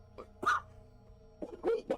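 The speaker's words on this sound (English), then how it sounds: "my cough is still bad" A character in The Hundred Line: Last Defense Academy gives a few harsh coughs, one burst early and a pair of rougher ones near the end, with quieter breathing and soft background sound between them.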